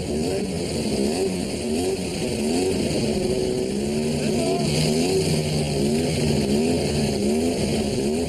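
Homemade dragster engines rev loudly on the start line of a drag race, rising and falling in repeated throttle blips with a sustained roar throughout.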